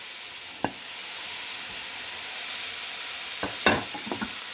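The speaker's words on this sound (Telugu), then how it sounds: "ఇప్పుడు ప్రాన్స్ వేద్దాం" Dried prawns tossed into frying onions in a pan, a soft steady sizzle broken by a few sharp spoon scrapes and taps as they are stirred.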